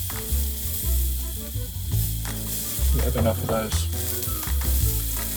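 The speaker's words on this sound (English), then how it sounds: "I just want to get that fat seared down a bit more" T-bone steak fat searing in a hot pan gives a loud, steady sizzle with sputtering crackles and some pan scraping, while someone talks casually over it throughout.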